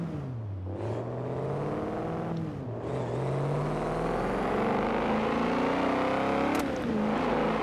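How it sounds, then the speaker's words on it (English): A BMW M5 engine in the Forza Horizon 4 racing game revs and accelerates through gear changes with a rough, burbly low-RPM tone, loud and continuous, pitch climbing and dipping between shifts. "mainly at low RPM, really, that's what makes this weird burbly noise"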